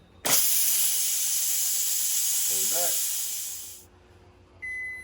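Loud, steady steam hiss bursts from an Instant Pot as its pressure valve and lid are released, holding for a few seconds before cutting off, with a brief murmur partway through and a faint beep after.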